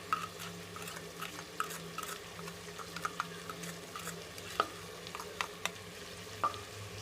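Dried coriander and turmeric roasting in a pan for mutton curry, a soft continuous sizzle broken by frequent light spatula taps and scrapes, close but fairly quiet.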